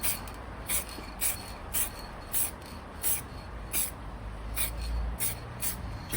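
Flame red aerosol spray paint misted from a rattle can onto a Vauxhall Corsa B, a steady hiss broken by a series of short rhythmic bursts, close and fairly loud.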